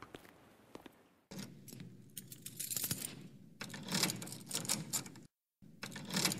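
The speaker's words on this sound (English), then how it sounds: "Turning his keys in the many locks of his door in the dim hallway" Metallic jangling and clicking of keys turning in the several locks of a door in a dim hallway of an old Victorian tenement, a run of close rattles and clacks with brief pauses, sound effect.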